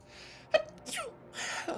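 A single sharp sneeze bursts out close by, followed by breathy, quieter vocal sounds in a calm indoor setting.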